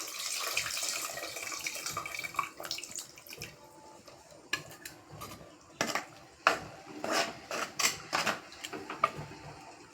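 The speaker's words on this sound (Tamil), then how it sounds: "இப்போ நம்ம புளி தண்ணி ஊற்றிக்கலாம்." Tamarind water is poured into a pot of spicy dried-fish curry, a quiet, uneven trickle and splash broken by sharp clinks and knocks of kitchen utensils and vessels.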